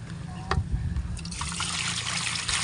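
Water trickles and pours steadily while washing dampalit greens for sinabawang bangus, a close, bright splashing that begins after a couple of clinks and runs to the end.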